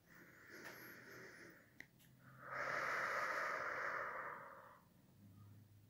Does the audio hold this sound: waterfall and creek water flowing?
no